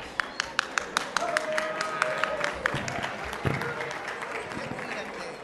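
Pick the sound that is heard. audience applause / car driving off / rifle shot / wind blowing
audience applause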